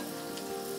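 Onions fry in hot oil with curry leaves and salt for a chicken curry, giving a steady, close sizzle that carries on without a break and with no talk.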